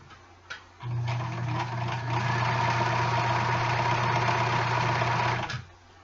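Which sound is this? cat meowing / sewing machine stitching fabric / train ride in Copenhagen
sewing machine stitching fabric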